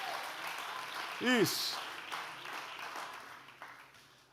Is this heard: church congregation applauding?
yes